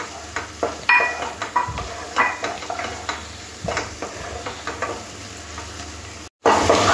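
Potatoes, already fried, stirred through spice paste for a Bengali fish egg curry, giving a soft sizzle under repeated scraping and stirring strokes, with occasional light clinks of the pan.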